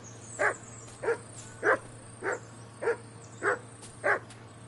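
Mutt, the dog in Kingdom Come Deliverance 2, barks seven times in a steady, evenly spaced rhythm, each bark sharp and close over a low, quiet game background.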